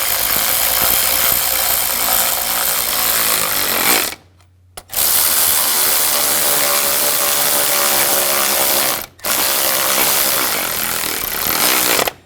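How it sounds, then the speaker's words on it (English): Rapid ratcheting tightens bolts on a 2004-2009 Audi A4 radiator cooling fan control module, loud, close and continuous clicking in three long bursts separated by short pauses. "Now tighten down the bolts."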